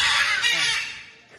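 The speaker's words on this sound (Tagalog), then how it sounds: "Ito pala yung nag-iingay. Natawag dito, loro." A parrot lets out a loud, harsh, raspy squawk close by that fades over about a second, with a faint trailing call at the end.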